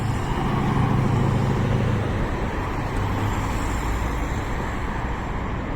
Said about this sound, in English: yeah, the traffic is intense.